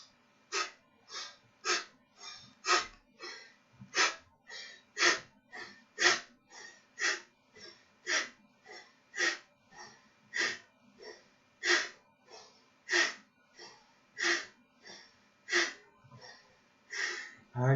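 Rhythmic breathing during a yoga session for sciatica relief, a steady series of audible close breaths repeating roughly every half second to second, with no spoken words.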